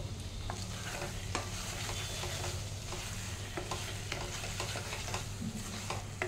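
Whole potatoes are stirred through thick gravy in a hot pan for alur dom. A steady sizzle runs under scattered scraping strokes of the spoon.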